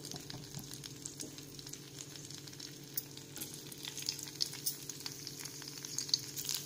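Stuffed okra fries in hot oil over a medium flame, a close, steady sizzle and crackle with scattered sharp pops, and no voices over it.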